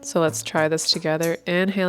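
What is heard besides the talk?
No distinct noise like a dog, phone or traffic.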